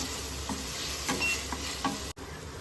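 Tomato and salt tadka frying in a pan for lauki kofta curry, a steady close sizzle with a few soft stirring scrapes, no talking.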